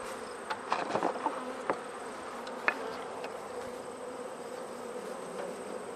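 Honey bees buzz around an open hive, a steady low drone with several individual bees zipping close past in short louder passes, no voices.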